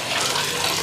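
Water gushes steadily from a tap, filling a bath, as a brief, fairly loud and close hiss with no speech.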